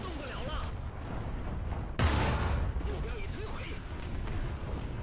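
A sudden heavy cannon-like blast from a T-69 II G tank in a video game cuts through steady battlefield rumble, followed by continuing noisy combat ambience.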